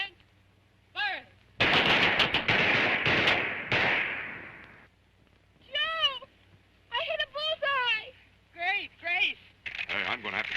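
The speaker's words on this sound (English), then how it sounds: "Commence. Firing." Gunfire on a military firing range in a 1953 film, a few loud close shots and a sustained volley, followed by high whistling, warbling calls in short repeated bursts.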